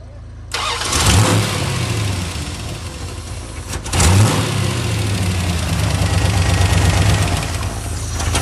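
A supercharged 1964 car engine cranks briefly, catches and roars to life, then revs hard and settles, blips again loudly at close range, and keeps running with a rough, throaty idle.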